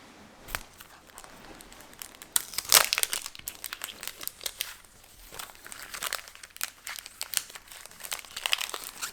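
Sheets of paper from a journaling kit are crumpled and handled up close in irregular bursts of crinkling and rustling, some sharp and loud, others soft, with no talking.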